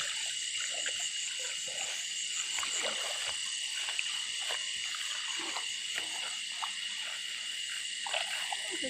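Frogs croak at night in a steady outdoor chorus, with many short croaks repeating over a constant high insect drone, moderately loud and unbroken.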